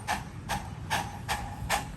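A 7.5-inch gauge miniature steam locomotive, number 844, approaches with rhythmic exhaust chuffs, five evenly spaced hissing puffs over a low rolling rumble, moderately near and fairly quiet.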